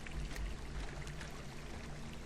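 Creek water flowing steadily in the video game Firewatch, a continuous soft rushing wash at moderate distance with no talk over it.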